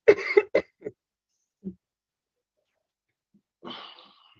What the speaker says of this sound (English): I hear a lot of coughing.